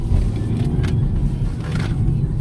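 A BMW crossover is driven hard on a test track through a cone course, its engine and road noise holding a steady, fairly loud rumble with brief higher bursts.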